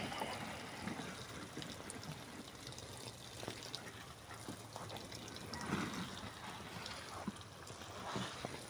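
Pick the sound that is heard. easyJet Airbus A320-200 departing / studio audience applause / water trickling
water trickling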